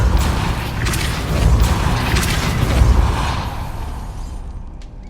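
A Depulso spell cast in Hogwarts Legacy rings out as a single dense, rumbling magical burst with scattered creaks and pops, loud and close, then fades over a few seconds.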